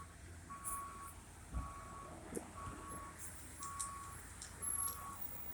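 An Amazon delivery truck reversing at a busy gas station, its backup alarm sounding a steady series of evenly spaced beeps over a low engine rumble, moderately distant.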